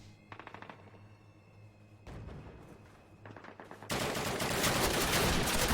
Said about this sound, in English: That's an MG, I believe